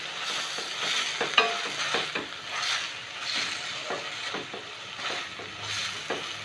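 Ridge gourd and other ingredients sautéing for a kadaiyal, with a soft steady sizzle broken by repeated scraping stirs and light clinks of a spatula against the pan, close by and with no talk.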